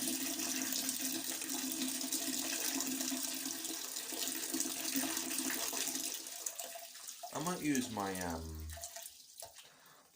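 Shower water runs in a steady broadband hiss for most of the stretch, close and constant, then a voice speaks briefly near the end over the fading flow.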